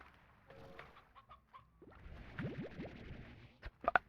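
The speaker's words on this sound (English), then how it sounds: "Honestly thought that chicken just swore then." Chicken clucking in the Slime Rancher video game, a few short clucks and squawks building to louder bursts near the end, fairly faint with no talk over them.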